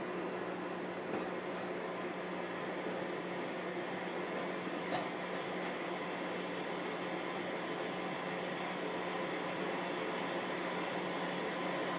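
Steady faint mechanical hum and whir of a dual rotor pulse motor running continuously, with a couple of brief soft clicks.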